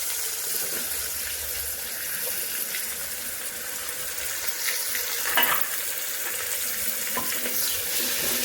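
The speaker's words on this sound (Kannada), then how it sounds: "ದೊಡ್ಡ ಸೈಜ್ 2 ಈರುಳ್ಳಿನ ಉದ್ದುದ್ದವಾಗಿ ಕಟ್ ಮಾಡಿಬಿಟ್ಟು ಹಾಕ್ಕೊಳ್ತಾ ಇದ್ದೀನಿ." Long sliced onions frying in hot oil with spices in a pan, a steady broadband sizzle and crackle throughout with occasional louder pops and stirring touches, continuous and close with no talking.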